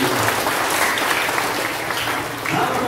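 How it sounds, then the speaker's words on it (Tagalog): A church congregation claps loudly and steadily during a worship service, a dense, even wash of many hands that stays strong throughout and is heard on its own. "pumalakpak ng malakas sa ating Panginoon."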